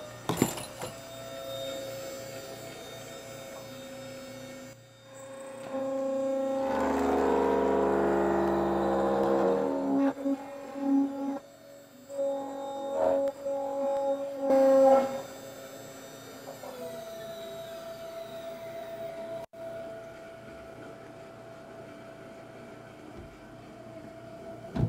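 A CNC router with a vacuum pod workholding system runs a program, a steady mechanical hum with a louder whining burst of cutting in the middle, then quieter motor drone as it finishes.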